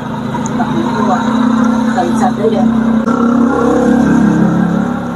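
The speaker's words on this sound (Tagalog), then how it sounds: "sorry maingay yung mga tricycle" Motorized tricycles pass along a street, their engine drone and clatter running steadily under close, ongoing talk.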